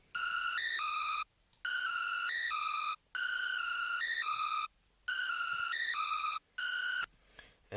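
A screechy synth lead from Serum in FL Studio plays a repeating high-pitched melodic phrase in four bright, piercing bursts separated by short gaps, loud and alone.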